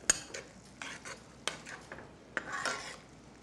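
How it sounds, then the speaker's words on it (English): Canned chili from a 16-ounce can being stirred in a hot pot, with faint metallic scrapes and clinks of the utensil against the pot over a low background sizzle. "Stir it in real good."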